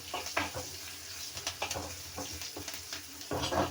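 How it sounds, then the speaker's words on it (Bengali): Asafoetida (hing) sizzling in hot oil while dal is cooked in a home kitchen, a steady close crackle broken by a few stirring scrapes and light pan knocks. "এবার দিয়ে দিচ্ছি একটু হিং তেলে"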